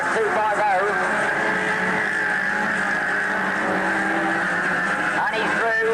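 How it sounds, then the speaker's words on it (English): Front-wheel-drive race cars at a 1986 Ringwood raceway accelerate down the far side, a distant engine drone running throughout beneath continuous commentary. "Down the far side they go, giving that little extra burst to catch up with that lead car at 250."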